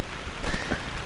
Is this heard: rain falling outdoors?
yes